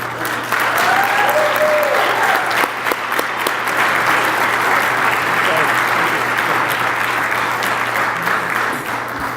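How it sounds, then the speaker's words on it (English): A crowd at an awards event gives a full, loud round of clapping that holds steady for the whole stretch, close and dense, with a faint voice briefly audible early on. "Please give Amy a round of applause"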